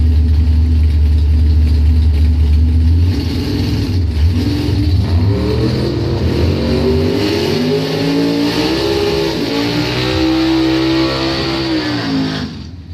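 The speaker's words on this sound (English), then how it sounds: "Big Ben Robbins doing that Big Ben burnout" A drag racing doorslammer car doing a burnout at the Bonfire Salute, its engine roaring loud and steady, the pitch climbing and wavering as the revs rise and hold for several seconds before easing off.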